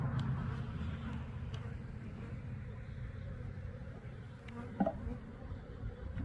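Honeybees buzz steadily around a hive in a beekeeping yard after a same-yard split, a constant low hum from many insects holding level throughout, with one brief louder knock near the end.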